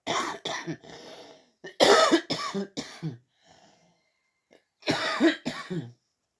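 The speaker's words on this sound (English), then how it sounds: "I know I always cough" Several harsh coughs come in quick bursts, then a pause, then two more close coughs, loud and near.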